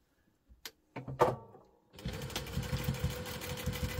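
After a few clicks and knocks, a sewing machine starts stitching across the end of a crossbody bag, a steady, moderately loud mechanical hum with a fast pulse continuing to the end.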